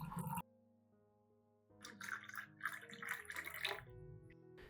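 Room-temperature water pours into a glass cup in a short burst, pauses, then a longer steady trickling pour with bright splashing, close by and alone.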